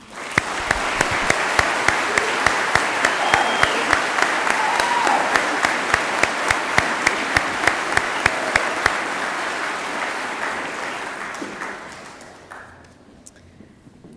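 An audience at a graduation ceremony breaks into loud, sustained applause with sharp individual claps, swelling quickly and fading out after about twelve seconds.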